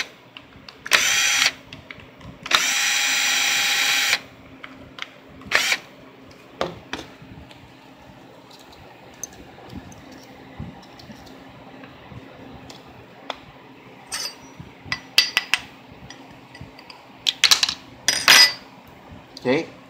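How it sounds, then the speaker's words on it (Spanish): Carburetor bowl being removed from a Stihl FS55R brush cutter that will not start: scattered small metallic clicks and clinks of handled parts, with two loud hissing bursts near the start, all close and fairly quiet between hits. "quitamos la parte de abajo del carburador,"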